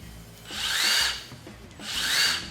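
A Milwaukee M18 Gen 3 cordless drill runs twice with a soft start, each burst ramping up smoothly to a steady high whine and winding down, close and loud, with no talk.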